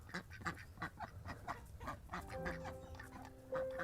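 Ducks quacking and clucking at a backyard duck pen pond in an urban permaculture garden, a rapid series of close, overlapping calls with a steady tone emerging toward the end.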